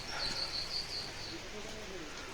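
Birds chirp in the quiet mountains of Uttarakhand, a faint, high, repeated twittering from a distance that fades after about a second, with a voice talking softly underneath.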